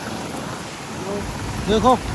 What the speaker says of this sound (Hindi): इस रास्ते में बहुत तेज आंधी आ गई,